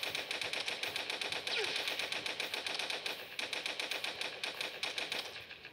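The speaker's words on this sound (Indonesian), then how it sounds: "Tembak, terus tembak, tembak." Rapid, steady automatic gunfire in the Toilet Monster hide-and-seek game, a dense rattling stream of shots that runs on without pause and fades slightly at the end.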